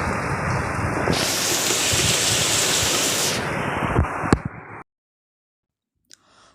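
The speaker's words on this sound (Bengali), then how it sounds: "বৃষ্টির পরিমাণ প্রচণ্ড বেগে বেড়ে গেছে" Heavy rain pours down during Cyclone Remal as a loud, steady roar for several seconds, with a few sharp knocks near the end before it cuts off abruptly into near silence.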